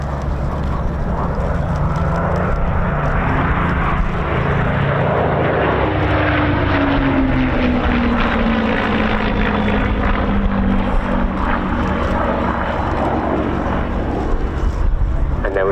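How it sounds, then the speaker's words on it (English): A pair of RAF Battle of Britain Memorial Flight Spitfires roars past in line abreast at an air show, a loud continuous propeller drone with a slowly falling engine pitch as they pass, with faint crowd murmur beneath. "See that perfectly line abreast formation of the two Spitfires"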